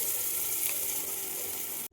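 Hot oil tempering of dried red chillies, mustard seeds and asafoetida is poured into tomato toor dal, producing a loud, dense sizzling hiss that runs steadily and then cuts off abruptly near the end.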